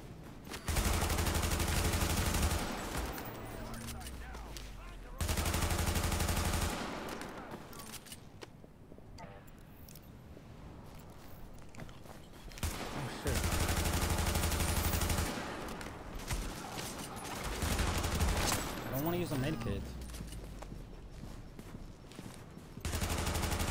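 Heavy gunfire from The Division fires in long, loud, dense bursts separated by quieter stretches with scattered shots and movement, and a voice talks in between.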